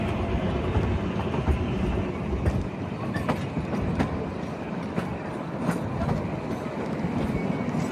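The Himalayan Queen, a narrow-gauge train on two-foot tracks, runs past Kalka toward Shimla with its engine at the front, a steady moderate rumble of wheels with light, regular clicks over rail joints.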